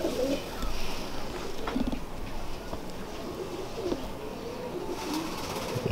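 Sialkoti pigeons on a Lahore rooftop cooing softly in low, repeated calls over a steady outdoor background hum, with faint chirps now and then.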